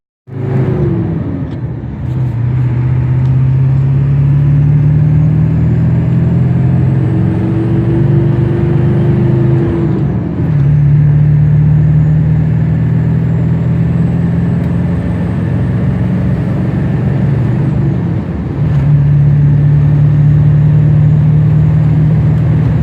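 A 7.3 Powerstroke diesel pickup truck cruises along with a steady engine drone and road rumble, pitch dipping slightly as it shifts through gears, loud and close.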